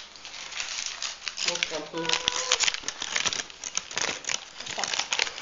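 Paper wrapping is peeled off a block of homemade butter after being moistened, with close crinkling and tearing rustles in short bursts, while people talk over it.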